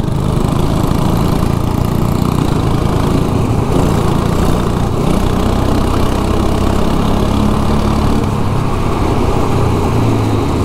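Go-kart engines run continuously and loudly during a race on a wet track in the rain, a dense droning buzz that barely changes, with a few faint shifts in pitch as karts pass.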